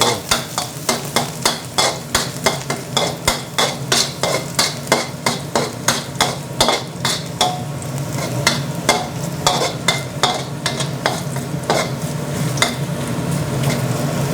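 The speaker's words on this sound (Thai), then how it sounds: "พอ น้ำมันร้อนนะครับ ก็เป็นกระเทียมนะครับ ที่เราสับ เอาไว้" Minced garlic frying in hot oil over medium heat for Thai fried rice with dark soy sauce: a steady sizzle runs beneath rapid, regular clacks and scrapes of a spatula stirring in the pan, with no talking.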